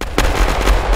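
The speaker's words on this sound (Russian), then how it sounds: "И тут в небе вот бомбежка, смотри." Explosions from an aerial bombing run in an Unreal Engine 4 game hit as a short burst of loud, dense booming blasts.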